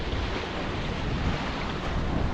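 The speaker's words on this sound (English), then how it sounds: "the sound of sailing, just that noise of rushing water across the hull" Water rushes steadily along a sailboat's hull while under sail, a continuous broadband hiss mixed with wind buffeting the microphone, with no voices.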